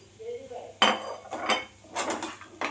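A spoon scrapes and clinks against a pan while a spice mix is stirred into beetroot and carrot, making a few short, separate metallic knocks and scrapes close by with quiet pauses between.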